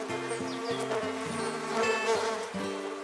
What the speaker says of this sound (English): from the top of the tree, there came a loud buzzing noise